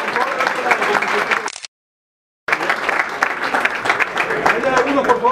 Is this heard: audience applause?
yes